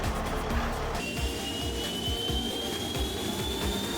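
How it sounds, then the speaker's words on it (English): A military jet fighter engine roars steadily at high volume, with a rising whine that sweeps upward after the first second and a rumbling low drone throughout, and no talking. "Jet fighter is a high-performance military aircraft designed primarily for air-to-air combat."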